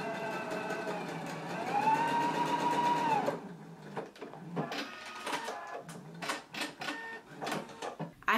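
A sewing machine runs close by, stitching reinforcement above and below a large circle on a Simplicity 8889 garment front, starting with a steady whir and then breaking into short stop-start bursts of stitching.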